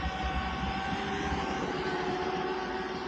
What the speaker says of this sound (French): C'est rapide notre petit drone.